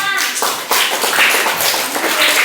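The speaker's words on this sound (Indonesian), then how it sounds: "tepuk tangan buat kelompok 5" A classroom of students applauds a student group, a short burst of dense, loud clapping close by with some voices mixed in.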